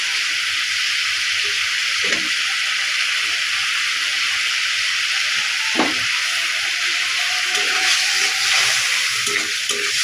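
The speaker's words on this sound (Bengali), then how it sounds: "মশলাটা একটু কষিয়ে নিই মশলা থেকে তেল ছেড়ে গেছে" Spice paste with green chillies fries loudly in oil in a pan, a steady close sizzling hiss throughout with a few soft stirring scrapes.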